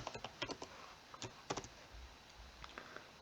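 Python code being typed on a computer keyboard, with scattered quick key clicks in short bursts, close and fairly quiet, followed by a few sparse taps.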